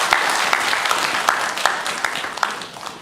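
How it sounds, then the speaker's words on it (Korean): Applause from a congregation during a Sunday morning church worship service: many hands clapping together in a dense, steady wash with occasional sharper claps, sustained throughout and slowly easing toward the end. "영광의 박수를 우리 하나님께 올려드리겠습니다"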